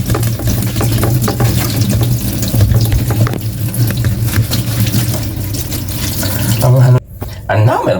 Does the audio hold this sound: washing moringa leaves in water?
yes